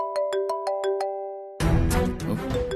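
A phone gives a series of short, evenly spaced electronic ring tones, then louder dramatic music and noise take over partway through.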